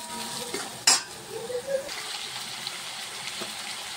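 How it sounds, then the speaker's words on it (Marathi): A pan of onion, green chili and curry leaves being stirred, with a loud metal clang of the spoon against the pan followed by quieter scraping and soft sizzling. "अशा प्रकारे आपण सगळं व्यवस्थित मिक्स करून घेऊया"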